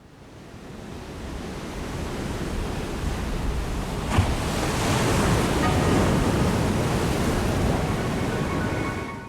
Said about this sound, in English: Quadrophenia opens with the sound of the ocean, waves crashing on the shore.